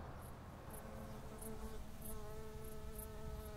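Bee buzzing in a children's cartoon: a steady insect drone with wavering pitch runs continuously under light background music with faint regular chimes.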